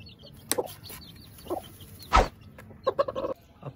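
A few short, scattered clucks from chickens, with quiet pauses between them and one louder burst near the middle.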